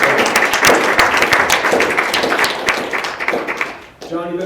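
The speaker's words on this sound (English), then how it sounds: "Give John a round of applause for that." A meeting audience applauds a retiring commissioner with perfect attendance, a dense, sustained round of clapping that fades out, then a voice speaks.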